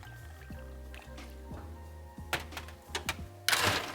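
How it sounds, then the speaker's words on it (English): Tanqueray gin, mint and hemp syrup and fresh lemon poured into a cocktail, heard as soft liquid pours and drips with bottle clinks and a louder splash at the end over low background hum. "I'm gonna put a generous portion of Tanqueray, our mint and hemp syrup,"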